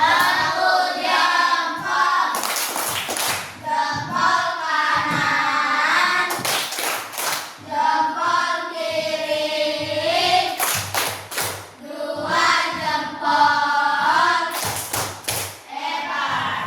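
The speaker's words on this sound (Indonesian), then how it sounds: "kita kasih tepuk jempol lagi untuk R" Children in an Indonesian classroom do a counted thumb clap, with short bursts of group clapping about every four seconds between stretches of children's chanting voices.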